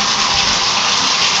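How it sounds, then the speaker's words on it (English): Water gushes steadily from a bathtub faucet just fitted with a replacement Moen cartridge, a loud, continuous close-up rush with no pauses. "Turning on our water."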